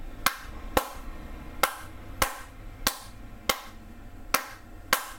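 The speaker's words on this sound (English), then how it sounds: "That's just me clapping to simulate" Single pair of hands clapping alone in a quiet room, eight sharp, evenly spaced claps roughly every two-thirds of a second, close and crisp.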